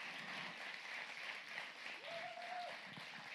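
A church congregation applauding to acclaim the Lord at a Sunday service, a steady wash of clapping throughout, with a brief tonal sound in the middle.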